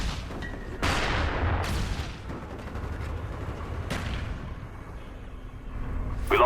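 Rapid bursts of submachine gun fire from a Call of Duty Black Ops match, several loud volleys in quick succession with short gaps and game noise between, no talking.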